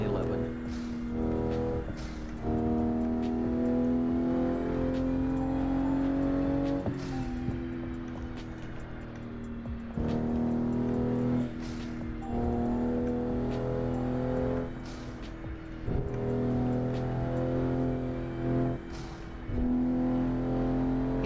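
A car engine in the racing game Assetto Corsa revs repeatedly, climbing in pitch and cutting back at each shift in a rhythmic cycle. The sound is steady and moderately loud, with a person talking over it.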